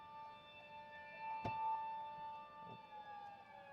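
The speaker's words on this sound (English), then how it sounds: "those tornado sirens they're sirening, They dude. have two different tones" Faint, distant tornado sirens drone at a steady pitch during a storm chase in Oklahoma and Texas, a thin held tone with a brief sharp click partway through.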